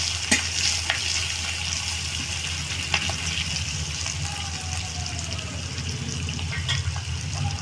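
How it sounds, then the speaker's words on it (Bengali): Onion being lightly fried in a pan with green chillies, a continuous close sizzle broken by occasional sharp clinks and scrapes of stirring, no talk. "একটু হালকা ভেজে নেব একটু পেঁয়াজটাকে"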